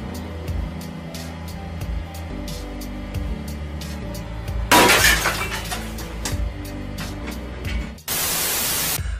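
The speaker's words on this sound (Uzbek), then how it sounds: "Lekin bu toshni press ostiga joylansa, u bir zumda maydalanib ketar ekan." A hydraulic press crushes a hard billiard ball, which shatters in a sudden loud burst of cracking and crunching. A second harsh, noisy burst follows near the end, and a rhythmic musical backing runs underneath throughout.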